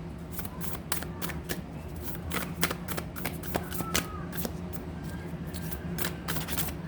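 Sticky tarot cards are shuffled by hand in a quick series of crisp riffling flicks, close and fairly quiet, with a faint low hum underneath.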